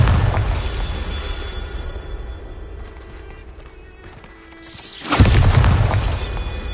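Bombarda spell explosion in Hogwarts Legacy on PS5, a heavy booming blast with low rumble fading away, followed by a second loud explosive burst near the end.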